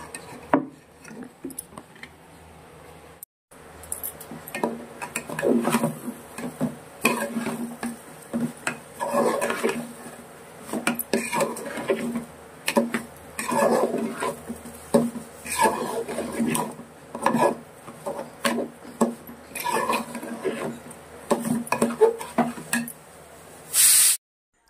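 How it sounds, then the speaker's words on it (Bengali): Rice with sugar is stirred in a cooking pot for pulao, the spoon scraping and rubbing against the metal in repeated uneven strokes, close and fairly loud, with brief pauses between bursts. "তো চলো এখন এইভাবেই নাড়াচাড়া কিছুক্ষণ আমি করে নেব, 2-5 মিনিট ধরে নাড়াচাড়া করতেই থাকতে হবে চালটাকে"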